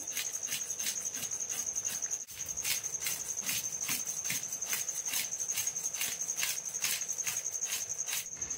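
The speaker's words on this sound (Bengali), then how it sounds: "এইভাবে বটির সাহায্যে কিন্তু আমি আঁশ ছাড়িয়ে নেব" A foli fish with plentiful scales being scraped against a boti blade, a fast, even rhythm of sharp rasping strokes repeating several times a second, close and clear, with one brief pause early on.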